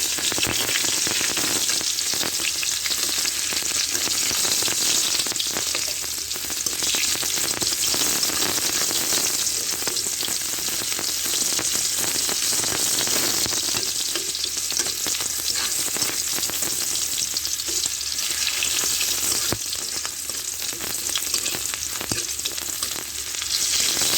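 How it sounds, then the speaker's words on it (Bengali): Assorted farmed fish fry in hot oil in a wok with a steady, dense sizzle and crackle that runs unbroken and fairly loud throughout, with no voices. "কড়াইতে তেল দিয়েছি, আর এই যে রকমারি মাছ এই যে ভেজে রাখছি।"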